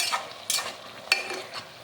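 Pointed gourd (parwal) curry frying in a pan over a raised flame, with a spoon scraping and stirring in a few distinct strokes above a soft continuous sizzle, close up and without voices.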